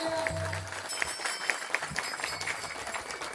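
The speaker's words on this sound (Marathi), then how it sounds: "टाळी बघा, टाळी टाळी टाळी" At a Marathi kirtan, an audience claps along in a steady rhythm, sharp regular claps about every quarter second over a murmur of voices and background sound.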